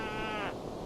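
A single short, wavering bleat like a sheep's cry from a sheep in the VR game VR Regatta, clear and close, lasting about half a second.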